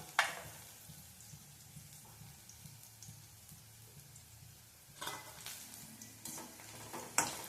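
Garlic and onions sauté in a pan with a quiet, continuous sizzle. Scraping stirs punctuate it at the start and again near the end.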